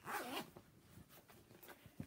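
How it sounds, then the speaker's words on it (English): A zipper on a purse is drawn open or shut, a short quiet rasping zip close by, followed by faint handling rustles. "And it's got a zipper right here."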